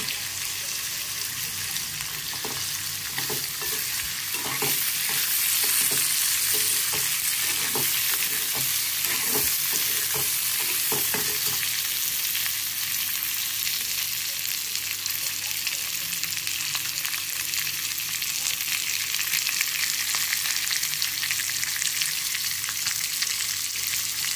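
Green chillies fry in oil in a pan for a paneer and capsicum gravy, with a steady close sizzle. Repeated stirring and scraping strokes are most frequent early on, and no one speaks.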